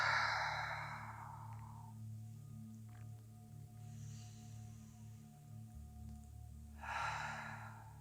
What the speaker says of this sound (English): you can have 3 changing breaths, inhaling through the nose and exhaling through the open mouth